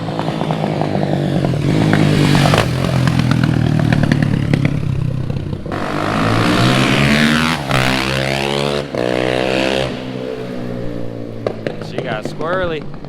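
A KTM 450 SMR supermoto revs hard and loud up close, the single-cylinder engine climbing and dropping through gears with sharp throttle blips and brief cuts, and people talk over it.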